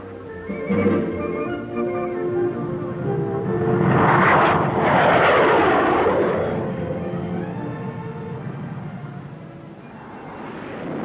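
A Skyhawk jet aircraft engine on a Marine training flight at dusk roars loudly and builds to a rushing, whining peak mid-way before easing, heard alone without voices.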